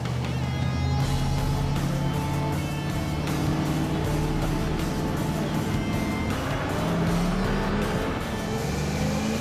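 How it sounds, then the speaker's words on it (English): A Chevrolet K20 4x4 truck drives with a steady, loud engine drone and low rumble that holds throughout, rising slightly in pitch toward the end as it picks up speed. "Now it drives like a truck."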